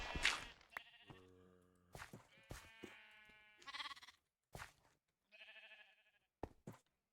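Sheep in the video game Minecraft bleat several times in short, close, clear calls, separated by gaps and mixed with brief clicks and knocks from the game.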